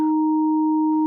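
Two pure tones sound together for about a second, a steady low pitch layered with a quieter, higher one, smooth and unchanging.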